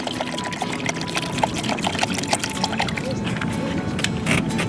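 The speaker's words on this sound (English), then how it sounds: "What I do is pour about half a bottle in." Liquid fish-attractant brine poured from a bottle into a container, a steady gurgling trickle with small splashes, fairly close and continuous.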